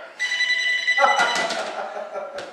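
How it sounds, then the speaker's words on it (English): A telephone rings in repeated electronic trills over a radio call-in sports show, with a host talking over and between the rings. "And your telephone's ringing, JT."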